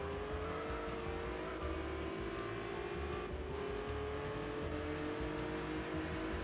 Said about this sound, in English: I am hitting that nitrous hard right now.